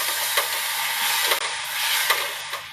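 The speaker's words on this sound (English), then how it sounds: "it will sizzle a bit, be careful" Fresh spinach sizzles as it drops into a hot pot, a loud, steady frying hiss with a few soft crackling pops and bursts, heard up close with no talking.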